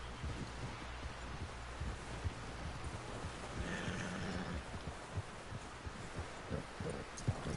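Horse in Red Dead Redemption 2, a faint whinny and hoof clip-clops amid rustling outdoor ambience, with scattered low thuds.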